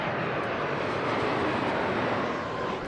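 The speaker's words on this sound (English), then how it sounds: "See planes going over now." A jet airplane flies overhead near an airport, its engine roar a loud, steady broadband rush that holds at constant strength throughout, with no talk over it.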